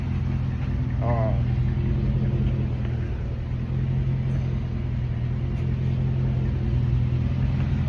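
A 2006 Chrysler 300C idles steadily with a low, even engine rumble that holds for the whole stretch, running warm after a new aluminum coolant reservoir was fitted. No voices break in.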